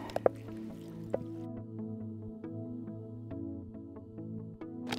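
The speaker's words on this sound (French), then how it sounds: "Déjà, j'élimine le jus qu'il y a dans la boîte. Et j'ai plus qu'à le rincer." Canned fishing bait draining through a strainer and then being rinsed, with soft drips, trickles and small squishy liquid sounds close up, no voices.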